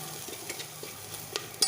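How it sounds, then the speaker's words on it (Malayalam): A low sizzle from a pan of spiced eggplant with tomato paste runs under soft, scattered stirring taps and scrapes, ending in a louder clatter of the spoon against the pan, quiet and close with no talking. "എന്നിട്ട് ഇത് നല്ലതുപോലെ ഇളക്കി കൊടുക്കണം."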